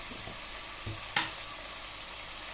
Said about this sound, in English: I'm going to give it a stir and let it fry till the onions are little translucent